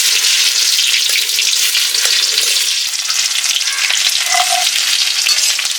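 Chopped onion fries loudly in hot oil with a bay leaf and a dried chilli, a steady close sizzle and crackle throughout, with faint stirring in the pan.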